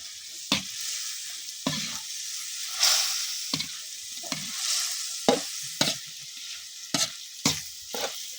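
Vegetables and small wild eggplants stir-frying in a hot pan, a continuous loud sizzle broken by about ten sharp scrapes and clacks of a spatula against the pan at irregular intervals, up close with no talk.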